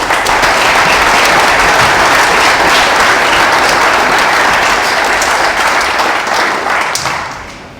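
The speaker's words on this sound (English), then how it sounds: "So we can give them a round of applause" A crowd applauds at a regatta presentation, with dense and loud clapping that holds steady for several seconds before fading away at the end.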